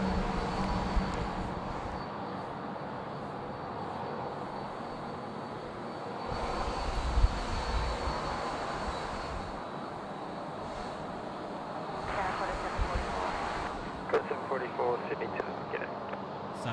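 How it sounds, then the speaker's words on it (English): A British Airways Boeing 777 taxis across a runway at Sydney Airport, its engines a steady distant roar and whine that persists throughout, mixed with faint background voices. "the British Airways 777 just making a crossing of that east-west runway as he heads directly south from his current position"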